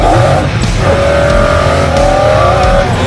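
Expensive collector car, valued near $20 million, revs loudly while driving, a strong engine tone rising and holding steady with a brief tire squeal, close and alone without speech.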